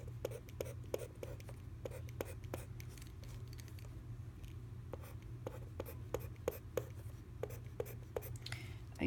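A pen or marker writes out a small place value chart, giving steady close scratching strokes with short taps and pauses across the whole stretch over a low background hum.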